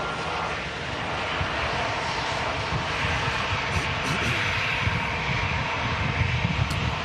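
Airliner engines roar steadily at Manchester Airport, a broad continuous rumble that holds at moderate distance for the whole stretch, with no voices over it.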